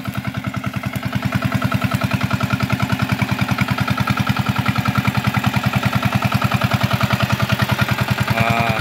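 A Super Kama 18G8 engine drives an irrigation pump watering a rice paddy, its rapid, even chugging firing pulses close and loud, running on steadily without voices.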